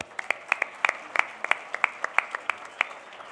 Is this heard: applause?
yes